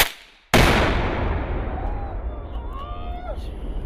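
A gun fires during military range training at Fort Indiantown Gap. One loud, sharp report breaks a quiet moment, and a long rumbling echo rolls away behind it.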